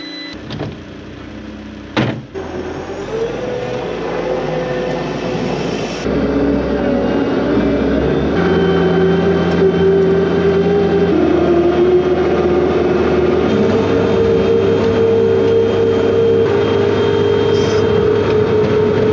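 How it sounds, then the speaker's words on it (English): A skid steer loader drives along a snowy road, giving a steady, loud engine drone and hum with a rising tone as it moves. There is a brief clunk near the start and no voices. "I'm gonna take the skid steer loader home and I'm gonna plow out my driveway"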